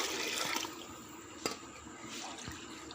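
Water runs and splashes into a cooking pot holding soaked rice for chickpea rice, a continuous moderate pouring wash with a few sharp clinks and bumps of the vessel.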